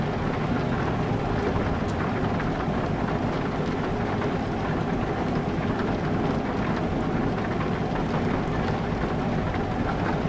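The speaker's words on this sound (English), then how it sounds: "Fair amount of rain actually." Steady, dense rain in Euro Truck Simulator 2 hisses and patters without pause, loud and close, with a low rumble underneath.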